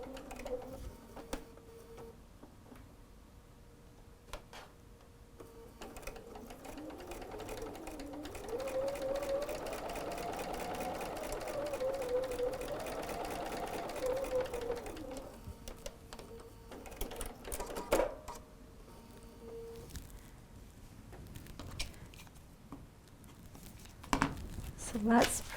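A sewing machine stitches a quarter-inch seam while piecing a quilt tree block, its steady motor hum running for several seconds in the middle, with a voice talking quietly around it.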